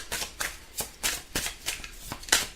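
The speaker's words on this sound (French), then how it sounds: "On va tirer 3 petites cartes." Oracle cards are shuffled by hand close up, a series of about eight crisp rhythmic riffling swishes at a steady pace with no talking.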